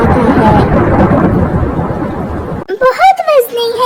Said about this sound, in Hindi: बारिश तेज थी, मगर कालू कौवा भी बारिश में उड़ना जानता था।